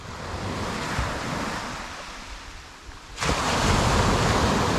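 Steady roar of sea surf washing ashore on a windy UK coast, swelling louder toward the end as a wave breaks, with wind rushing over the microphone.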